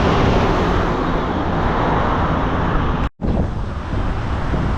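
Steady roar of highway traffic rushing past nearby, loud broadband noise mixed with wind that drops out for an instant before resuming.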